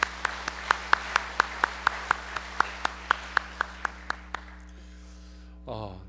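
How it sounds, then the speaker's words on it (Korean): Church congregation clapping in a steady unison rhythm, around eighteen crisp evenly spaced claps that stop abruptly, followed by a brief voice. "우리 이분들을 격려하며 축복하며 박수 한번 하겠습니다."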